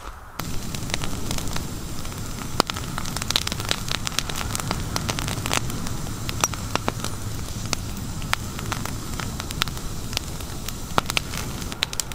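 An outdoor fire burns steadily on a dry day at a homestead, with constant crackling and sharp pops over a low roar for a long stretch and no talking.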